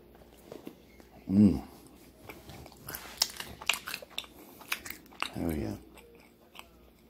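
Biting into and chewing a fresh bagel spread with strawberry cream cheese, with a few close, crunchy bites and soft mouth sounds among brief bursts of voice.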